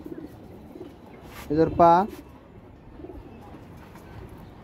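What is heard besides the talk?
pigeons cooing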